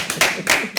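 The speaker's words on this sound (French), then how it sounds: "Alors, on s'applaudisse." A short burst of audience clapping at a talk, two loud swells of handclaps within under a second, close and dense, no voices over it.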